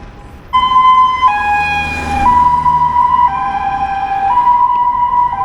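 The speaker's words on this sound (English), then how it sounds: "people don't move out of the way for ambulances here" An ambulance siren wails loud and near on a busy road in China, its two-tone pitch switching back and forth over the hum of surrounding traffic.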